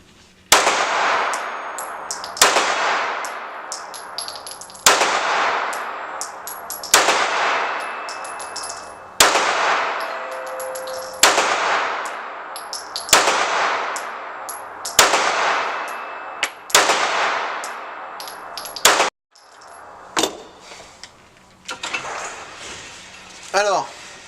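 Rapid pistol shots from a Sig Sauer P320 M17 in 9mm, fired as a string of loud, sharp cracks about two seconds apart with ringing decay, followed by a few softer bangs and rustling near the end.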